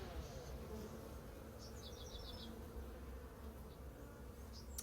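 Young honey bees hum inside a hive with emerging brood, a low, steady buzzing drone lasting throughout, faint and even, with a few soft higher chirps over it.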